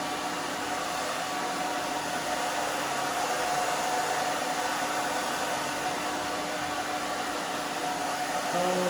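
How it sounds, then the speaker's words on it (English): A blow dryer runs continuously while drying long hair after a heat-activated product is sprayed on, giving a steady, close, broadband whooshing roar with a faint motor whine and no talking. "you need to use, the blow dryer to help it"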